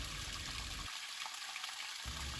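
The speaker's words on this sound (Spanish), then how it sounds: "que disfruten del ruido del agua que está corriendo, sí, en este arroyo" A woodland stream flows with a steady broadband rush of running water, close and continuous, with no voices over it.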